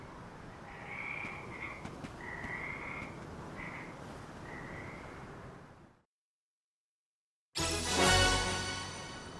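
Croaking from a frog in the video game Visions of Mana comes as a string of short, nasal croaks over soft ambient background, then cuts to silence before another louder game sound breaks in.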